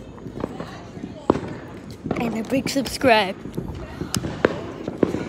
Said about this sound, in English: Those big old fireworks are keep going and going and going and going.